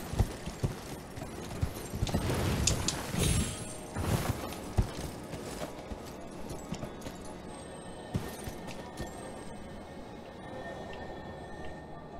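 Horse hooves clip-clop in Elden Ring, a steady rhythmic trot that is loudest early and then fades under ambient game sound.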